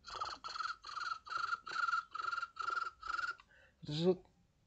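A human voice imitates a cricket chirping at night, giving eight evenly spaced, buzzy trilled pulses close to the mic, followed by a short vocal sweep at the end.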